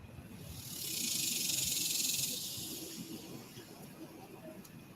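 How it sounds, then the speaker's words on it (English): Cicadas drone in a loud, hissing swell that rises, holds and fades over a few seconds, with a quieter steady insect buzz continuing beneath. "Those are cicadas."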